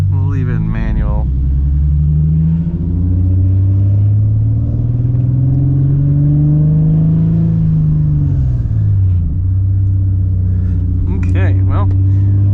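A Nissan 370Z Nismo pulls away under power, its engine revving and rising in pitch through close-ratio gears, loud and steady throughout, with someone talking over it at the start and end.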